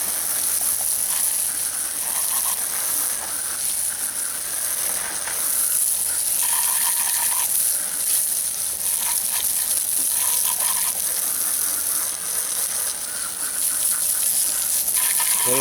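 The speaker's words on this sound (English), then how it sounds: "let me get my hose pipe, go ahead and rinse this off" Water from a hose pipe sprays steadily onto a car wheel and tire, a continuous hissing gush that holds for the whole stretch with small shifts in intensity and no talking.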